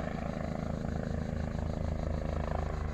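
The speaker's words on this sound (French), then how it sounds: "Ah ouais, il y a un hélicoptère juste devant là." A helicopter flies nearby with a steady, rhythmic rotor chop and a sustained engine drone at a constant, fairly close level, with no talk.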